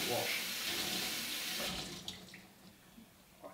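Sage leaves from the garden are rinsed under a running tap, a steady close gush of water that cuts off partway, leaving faint handling sounds.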